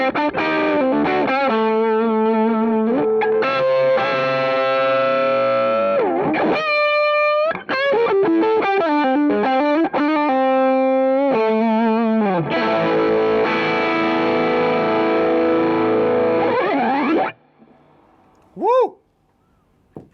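Electric guitar played through a Tech 21 SansAmp Character Series Mop Top Liverpool pedal with a distorted, chorus-tinged tone, strumming chords and bending single notes, ending with a brief pause and a short sliding note.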